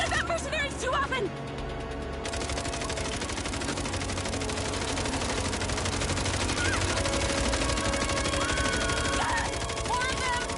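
Sustained machine gun fire at mercenaries in the MindsEye video game, a rapid continuous rattle of shots lasting throughout, loud and close, with game music and voices underneath.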